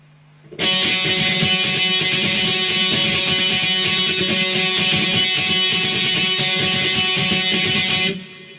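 Distorted electric guitar chugging out steady octave power chords in a driving rhythm, loud and sustained, then stopping abruptly.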